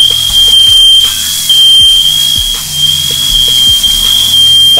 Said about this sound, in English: I know y'all hear that alarm going off. Smoke detector.